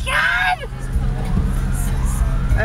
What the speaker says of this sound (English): the police sirens just came